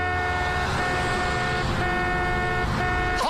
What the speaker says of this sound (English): Where Fitzy and Whipper told people to honk along to the song Happy Birthday.